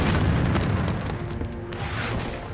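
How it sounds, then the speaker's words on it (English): Heavy artillery barrage on a World War II battlefield, a continuous loud low rumble of overlapping explosions and booms with no gaps. "the Soviets unleash a punishing artillery barrage"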